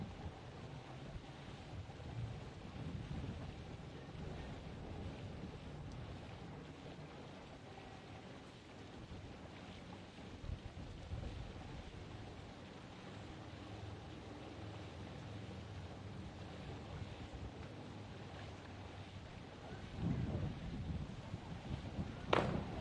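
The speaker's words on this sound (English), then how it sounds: "Hear that wind ripping in the background." Wind gusts roar across an outdoor 15 m high-diving platform at a junior world championship, a steady, loud, rough rumble that runs the whole time with a stronger gust near the end.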